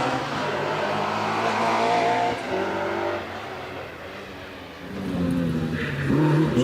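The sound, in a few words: Peugeot 205 GTI rally car launching on a hillclimb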